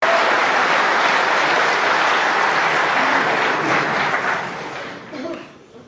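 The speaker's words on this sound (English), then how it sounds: "there was a loud noise of applause from the other table" Loud, sustained applause from a neighbouring table fills the arena at the Crucible during the World Snooker Championship, a dense wash of clapping that holds steady before thinning and fading out at the end.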